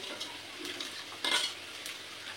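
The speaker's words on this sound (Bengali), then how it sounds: "চলো ডালটা ঢেলে দিই।" Thin masoor dal poured into a hot pot gives a soft sizzling hiss with light clinks of a utensil and a brief louder splash-like surge midway.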